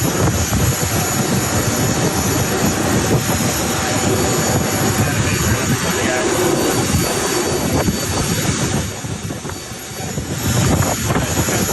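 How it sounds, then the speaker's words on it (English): Jet aircraft idling on the tarmac in Cancun, a loud, steady broadband engine roar filling the whole stretch with no break and only a slight dip near the end, with no voices. "that jet was waiting on the tarmac"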